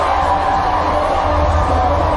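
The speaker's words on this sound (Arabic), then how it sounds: "إذا هنا منطقة المشجعين في الدار البيضاء، الجماهير المغربية أكيد سعيدة" Moroccan football fans celebrate in the Casablanca fan zone after Morocco's 2-0 win over Belgium. Their loud crowd roar is steady and unbroken, with cheers and whoops blending into one dense wall of sound.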